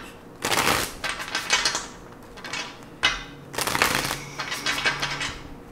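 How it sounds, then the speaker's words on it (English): Two riffle shuffles of a card deck, each a fluttering rush of snapping cards followed by a softer bridge, close up and without speech. "Let's get two more shuffles."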